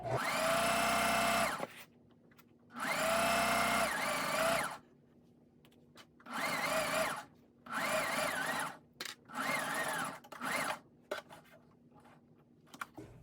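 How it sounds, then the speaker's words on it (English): A sewing machine backstitching curtain fabric runs in several short whirring bursts separated by pauses, close and fairly quiet, with no talk. "you always backstitch at the beginning and the end just to make sure that your stitch is not gonna fall out"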